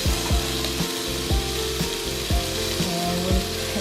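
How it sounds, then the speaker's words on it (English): Shrimp frying in a pan for Thai shrimp basil fried rice, a steady close sizzle broken by repeated short scraping and stirring strokes roughly every half second, with no talk. "So I want to kind of golden brown the shrimp with some color first. So we're going to let it cook for one side"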